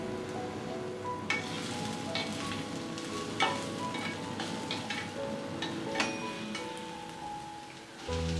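Onion, green chilies, ginger juliennes and curry leaves sizzling in hot oil, a steady close frying crackle with a few sharper pops and stirring clinks throughout.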